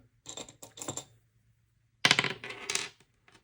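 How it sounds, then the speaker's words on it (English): Dice clatter on a hard surface in two bursts, a first short run of light clicks and taps, a pause, then a louder, rattling tumble that settles, heard close and quiet. "Roll the dice and see which one I'm going to do."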